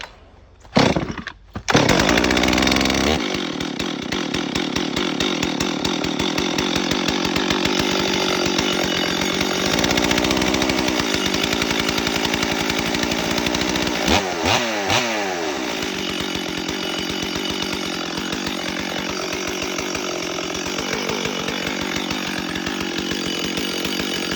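Stihl MS 440 chainsaw, older model with a replaced intake boot, coughs into life after a short pull and then runs steadily at a loud, close, buzzing idle for over twenty seconds, with one brief rev partway through.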